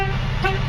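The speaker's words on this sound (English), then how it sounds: "Horn works." A 1979 Jeep CJ-5's horn gives one short, loud, close toot.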